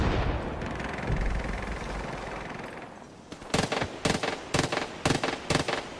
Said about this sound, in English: that was a full auto clip of an Uzi into their crotch